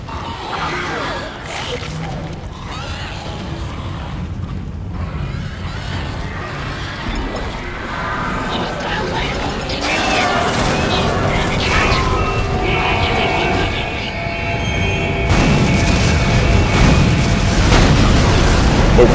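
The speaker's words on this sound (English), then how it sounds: "Seriously, two explosions right on top of each other." Explosions in the video game Dead Space 2, loud, crashing booms and rumbling blasts layered over continuous game noise, growing denser and louder toward the end, with two bursts landing close together.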